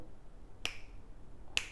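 Two crisp finger snaps, close and sharp, separated by about a second of quiet room tone, made to test a NUBWO NK-30 gaming keyboard's sound-reactive lighting.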